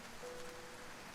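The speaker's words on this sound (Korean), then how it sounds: "비다! 드디어 비가 내린다!" Steady rain falling and pattering on a surface, a faint, even hiss of drops that continues without a break from start to finish.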